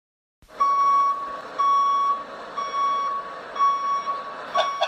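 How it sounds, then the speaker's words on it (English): Tow truck reversing beeps sound as a steady series of loud, piercing electronic tones in evenly spaced bursts, with a low engine rumble underneath and no talking. "He's showing up with his nice tow truck to tow away Odell Beckham."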